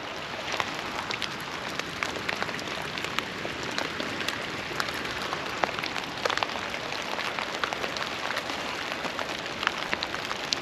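Steady rain falling in a spring forest in Southwestern Ontario, a dense continuous patter of drops on leaves and ground with scattered closer, sharper hits and no talking.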